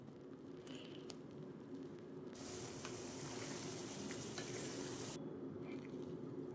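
Potato and kohlrabi stir-fried with ground spice paste in a pan for a Bengali hilsa fish curry, giving a steady low sizzle with scraping stirs, which briefly brightens into a louder hiss through the middle before easing back.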